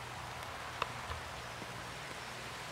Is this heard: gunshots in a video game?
no